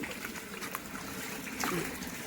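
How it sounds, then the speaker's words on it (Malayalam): Rainwater running through a large drain pipe after a day of nonstop rain, a faint, continuous trickling and gurgling flow with a few brief splashy surges, heard from a short distance. "നല്ല രീതിയിൽ വെള്ളം പോകുന്നുണ്ട്"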